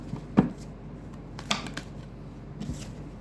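Tarot cards being handled and drawn: a sharp card snap near the start, another crisp flick about a second later and a softer rustle near the end, close and fairly quiet, with no talking.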